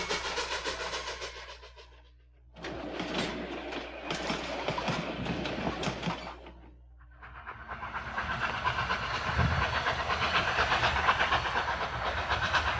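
A narrow gauge steam train runs on a Colorado mountain railroad, its steady rumble, hiss and rhythmic clatter of the cars rolling on. Sections rise and fall, with a brief quieter dip before it swells again, loud and close.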